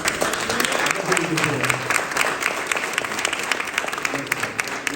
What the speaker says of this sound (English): I want to say, give him a round of applause.